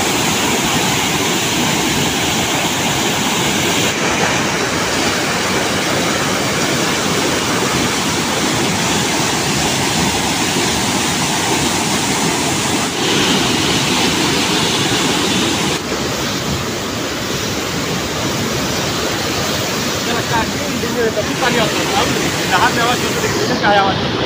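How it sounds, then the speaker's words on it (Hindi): Fast canal water rushes down a slope at a village canal, making a loud, steady roar of churning water that continues unbroken for the whole stretch. "पानी का रफ्तार जो है तेजी है, ढाल ढाल पे इस तरह है इसलिए आवाज़ कर रहा है"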